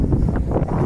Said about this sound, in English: the wind is getting up a little bit, just ever so slightly